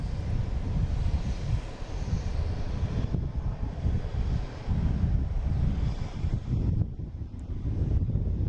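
A jet airliner rumbles past near an airport, a broad steady roar close by mixed with heavy wind buffeting on the microphone, swelling and easing slightly over several seconds.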